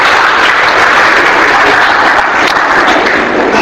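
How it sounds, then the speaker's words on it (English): A large roomful of people claps loudly and steadily at a communication skills training session, the dense applause continuous and close for the whole stretch with no pauses. "Clap, give a good clap."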